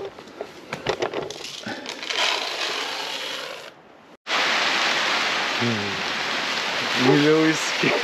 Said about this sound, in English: it's like raining a lot